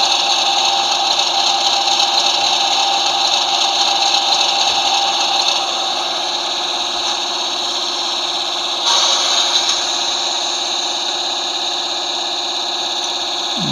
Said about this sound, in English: Must be the compressor running